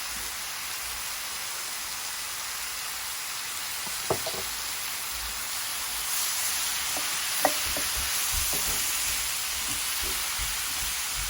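Food frying in olive oil in a pan, a steady close sizzle and hiss with a few scattered clicks and scrapes of stirring, no voices.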